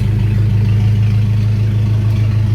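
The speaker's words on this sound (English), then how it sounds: "This is the loudest my exhaust has been at idle" Nissan Hardbody truck idling with its exhaust running loud, a steady low rumble and throb with faint mechanical clatter on top, close and continuous with no talking.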